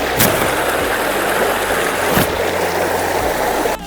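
Continuous rushing flow of a river, loud and close, with a steady broadband wash and a brief sharper splash partway through, at a riverside near Likor Village.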